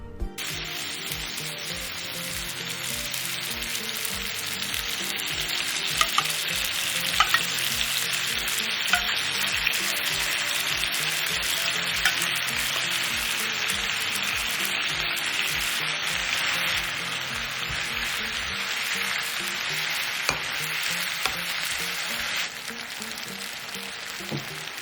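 Kimchi and its juice stir-fry in a pan for kimchi fried rice, a long, even, close sizzle with scattered light pops and occasional utensil clicks, steady throughout.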